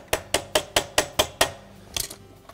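A flat blade screwdriver taps a dishwasher impeller snugly into place on a General Electric dishwasher: seven sharp, evenly spaced metallic knocks, then a short cluster of lighter clicks, close and distinct with no talking.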